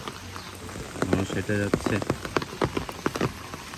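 Rain falling on a concrete village road beside grazing cows, a constant hiss of drops under a man's close, brief speech, with occasional sharper splashes and taps.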